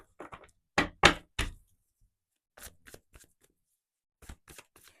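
Tarot cards shuffled by hand in three quick bursts of crisp riffling and tapping, close and fairly loud, separated by near silence.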